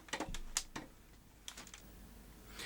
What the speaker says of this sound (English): when I'm typing numbers on here